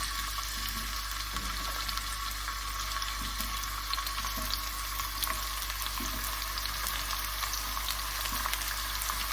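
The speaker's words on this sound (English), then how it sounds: "Just really carefully add your discs of courgettes." Courgette discs frying in a hot pan, a constant bright sizzle and crackle with a few soft pops, close and steady with no talking.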